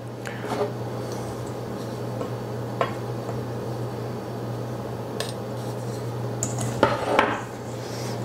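Butter being worked into flour for biscuit dough in a bowl, giving soft squishing and scraping with occasional clinks of a utensil against the dish, under a steady background hum.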